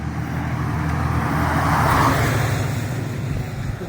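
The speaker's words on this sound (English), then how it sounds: "I've got one more truck to pass me." A truck passes by on a small-town road, a broad rumbling roar that swells toward the middle and eases off, heard close and alone.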